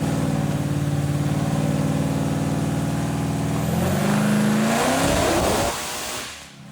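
A Toyota Supra with a Hellephant engine swap roars loudly and near, holding a sustained high rev that climbs, then cuts off abruptly as the engine winds down.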